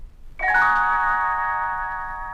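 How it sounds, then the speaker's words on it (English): A bright chime of small bells rings once as a page-turn signal for a Disney Robin Hood storybook, struck sharply and then sustained with a slowly fading shimmer. "You will know it is time to turn the page when Tinker Bell rings her little bells like this."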